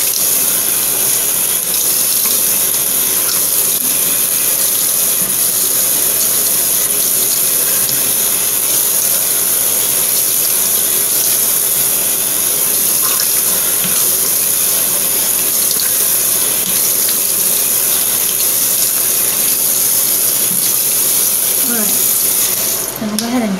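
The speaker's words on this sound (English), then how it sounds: "So I'm going to go ahead and rinse my face." Tap water runs steadily into a sink while a face is rinsed, giving a continuous, close, even rush with faint splashes throughout and no talking.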